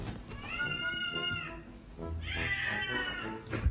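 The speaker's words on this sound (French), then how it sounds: "C'est quoi, c'est un bébé qui pleure ou un chat?" A cat lets out two long, drawn-out meows that sound like a crying baby, wavering and plaintive, close and moderately loud with a short gap between them.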